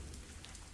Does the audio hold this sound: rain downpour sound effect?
yes